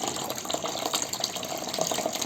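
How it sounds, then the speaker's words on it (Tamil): Water pours and splashes steadily into a pan of fish curry at close range, a soft continuous trickling with small bubbling spikes. "அதோட வந்து தண்ணி நம்ம ஆட் பண்ணிக்கலாம்."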